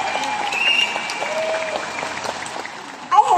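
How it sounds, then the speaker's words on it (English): An audience at an evening company talk gives Faith a round of applause, a broad, even wash of clapping from many people at moderate distance that carries on steadily until a brief louder rustle near the end. "So let's give Faith a round of applause."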